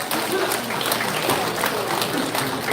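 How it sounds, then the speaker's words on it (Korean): An audience at a book launch event claps vigorously, a dense, even burst of many hands continuing throughout, with faint voices mixed in. "모두에게 힘찬 박수를 보내주시기 바랍니다"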